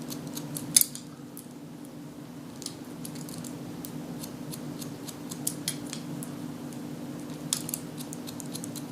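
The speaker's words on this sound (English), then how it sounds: "so I'm going to come back and just point cut all that" Musashi thumb swivel scissors point cutting hair, a series of small crisp snips scattered across a quiet room with a low steady hum beneath, close to the microphone and no talk.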